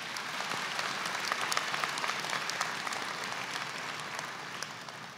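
An audience at a pharmacy graduation ceremony gives graduates a round of applause, a sustained wash of many hands clapping at moderate distance, steady throughout and easing slightly at the end.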